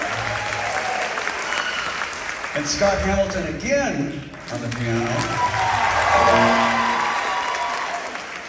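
An audience claps for members of a school district faculty band as each player is introduced, applause swelling and easing while an announcer talks over it.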